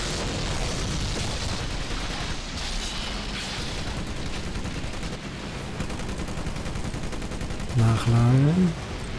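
Sustained rifle and machine-gun fire rattles in a Medal of Honor: Pacific Assault battle, dense overlapping shots with occasional booms and a voice rising briefly near the end.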